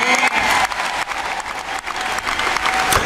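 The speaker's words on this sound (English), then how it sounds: "they clapped, and they stood up, and they did the polite thing" Loud, dense applause from a Labour conference hall crowd after Jeremy Corbyn's speech, sustained clapping with slight dips and swells, close and filling the space without talk.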